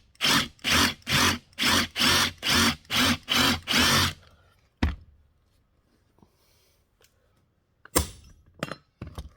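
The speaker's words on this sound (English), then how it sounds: "Drilled those." A power drill whines in eight rapid, evenly spaced bursts drilling out rivets on a 1949–51 Ford vent window, then stops; a few sharp metallic clicks and taps follow in near silence.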